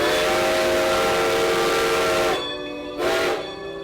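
A Strasburg Railroad steam locomotive sounds its whistle, a loud sustained chord that cuts off, then returns in a shorter second blast, close by over the hiss of steam, with no voices.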